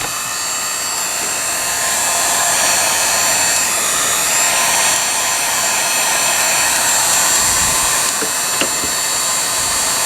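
A heat gun blows hot air onto a warped part of a Philco 41-245 radio, producing a loud, steady, close roar for the whole stretch without pause.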